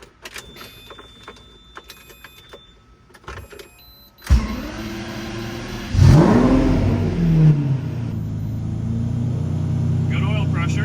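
Lamborghini Murcielago engine cranking and catching after starter solenoid and fluid service, then rising in a loud rev before settling into a steady, rumbling idle up close, preceded by clicks and clatter in a workshop.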